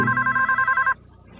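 A telephone rings in a caller ID commercial: a loud, close electronic warble pulsing in quick repeated bursts, then stopping abruptly into near silence.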